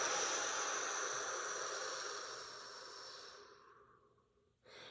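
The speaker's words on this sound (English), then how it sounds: "Let's just breathe in and breathe out." Slow guided breathing, a long, soft airy exhale fading gradually over several seconds, then a fresh intake of breath at the end, heard close and alone.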